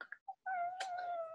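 A cat meows close by: a couple of short chirpy mews, then one long, drawn-out meow with a brief rise in the middle.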